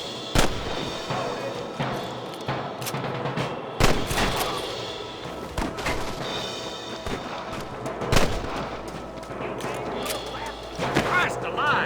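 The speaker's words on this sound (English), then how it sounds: "Good shooting, boy!" Rapid gunfire from many weapons in a Red Dead Redemption shootout, repeated sharp shots and bursts over a steady din, with voices shouting at times.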